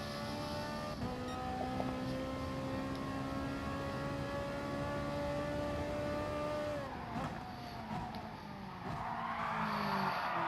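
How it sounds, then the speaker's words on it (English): A Ferrari GR3 race car in a Gran Turismo online race at Dragon Trail Gardens drones at steady engine pitch, then its tires skid and scrub loudly as the revs drop and rise again, continuous and close with no talk. "And another skid will slow us down."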